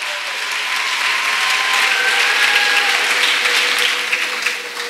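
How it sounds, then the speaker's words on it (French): A church retreat audience claps and cheers as a child arrives, steady dense applause filling the room, loud and sustained throughout with no pause. "Acclamez le Seigneur pendant qu'il arrive"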